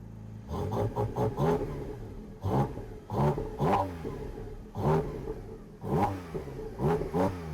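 A Porsche engine revs hard right beside the listener, with repeated loud throttle blips rising and falling in quick bursts over a steady rumbling idle, and it stays close and intense throughout.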